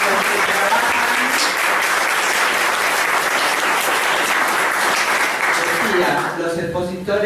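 Full, steady applause from a conference audience at an annual clinical foundation event rolls on for several seconds, then thins out as a voice begins speaking near the end.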